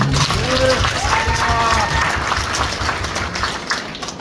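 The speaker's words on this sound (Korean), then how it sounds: "박수 드립니다." An audience applauds at the opening of a campaign office for a candidate in Gumi, a dense, loud wash of clapping with a voice carrying over the first seconds before it fades slightly.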